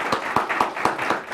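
Brief burst of audience applause for a guest at a talk event, with a handful of distinct, fairly close hand claps in a loose rhythm over a light room murmur.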